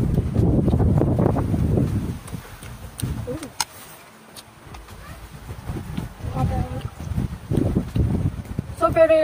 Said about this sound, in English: So very relaxing outside because of the wind.